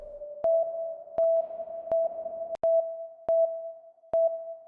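Repeated tone pulses through a shortened convolution reverb in FL Studio's Fruity Convolver, a steady mid-pitched beep interrupted by about seven sharp clicks, each short pulse ringing briefly with a clipped, tight tail.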